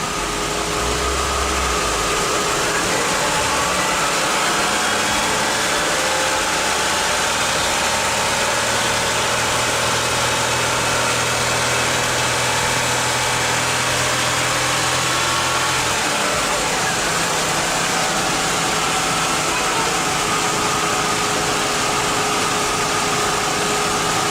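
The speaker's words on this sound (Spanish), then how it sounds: "voy a llevar el motor a unas 2000 revoluciones" A car engine held at about 2000 rpm during an alternator check, producing a steady, loud, close mechanical drone with a constant low hum and no voices.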